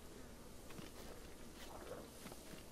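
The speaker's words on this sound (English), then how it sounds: "I hear bees." A faint, continuous buzzing of bees in The Legend of Zelda: Breath of the Wild hums steadily in the background, soft and slightly distant, with no voices.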